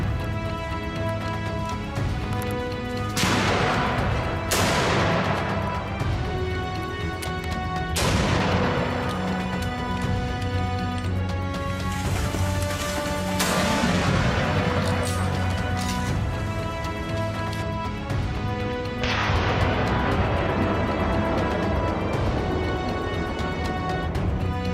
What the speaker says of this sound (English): We shot continuously and killed several wild boars.